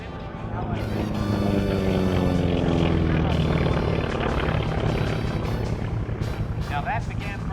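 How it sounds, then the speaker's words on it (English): A Cessna 337 Skymaster and a T-28 drone loudly overhead during an airshow forward air control demonstration, their propeller engines sweeping in pitch as they pass, with an announcer talking over the steady roar. "the Cessna 337 Skymaster, called the Mixmaster, or Suck and Blow by some pilots, setting up a forward air control demonstration with the T-28"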